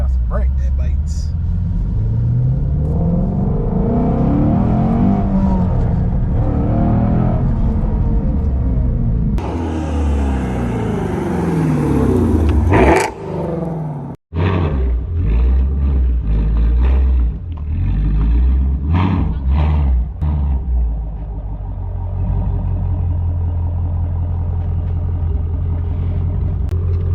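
A Ford Shelby GT350 engine rumbles close by as the car drives, with a surge of revving partway through and steady low drone under someone talking throughout.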